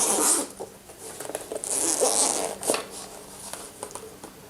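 A zipper pulled open around a controller carrying case, with quick scratchy zipping bursts close by and a few rustles and handling noises.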